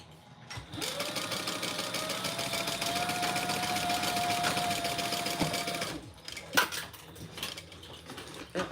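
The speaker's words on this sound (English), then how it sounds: "I'm going to sew around the outside." A sewing machine stitches around the outside of a decorative fabric overlay, running as a rapid, steady mechanical whir for several seconds before stopping. Faint clicks and handling noises follow.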